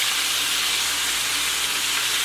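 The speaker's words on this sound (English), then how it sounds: "Let's give attention to this corn now that's frying over here" Southern fried corn sizzling in a hot pan, a steady dense hiss of frying with fine crackle throughout, close and fairly loud, no voices.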